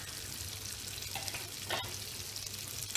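Food sizzling in a hot pan while being stirred, a steady close crackle with faint scraping movements and no talking.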